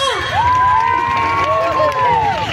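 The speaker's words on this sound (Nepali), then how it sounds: "उहाँको नाम एकचोटि जोरदार ताली बजाइदिनुहोस् त" Crowd at a village fair cheering loudly, with a long rising and falling whoop carried over the general din of shouting voices, close and sustained throughout.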